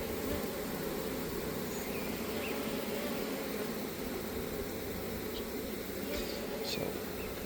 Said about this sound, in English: Still got a lot of bees in here.